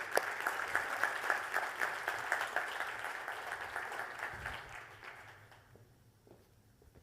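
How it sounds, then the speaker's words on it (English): Audience applause for a speaker taking the stage at a CX insights presentation on a youth research study. Steady, dense clapping fills a hall for about five seconds, then thins and fades to near silence. "Hand of applause for Bronwyn."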